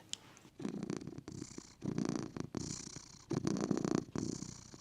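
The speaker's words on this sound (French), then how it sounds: "Il ronronne. Je l'appelle mon moteur diesel." A cat purring close up, a low rumbling purr that swells and fades in steady bursts with short gaps between breaths.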